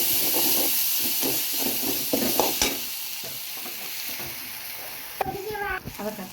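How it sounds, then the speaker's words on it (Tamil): Ginger garlic paste fries with tomatoes in a pan for soya chunk gravy, a steady close sizzle with scraping stirs and a few clinks, and a voice briefly heard near the end. "இஞ்சி பூண்டு பேஸ்ட் கொஞ்சம் ஆட் பண்ணிக்கோங்க"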